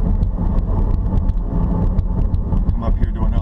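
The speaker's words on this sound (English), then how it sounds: "you can hear the road noise as with any cars and tires" A 2014 Chevrolet Volt cruising on the road, with a steady, loud rumble of road and tire noise filling the cabin and small intermittent knocks over it, continuous throughout.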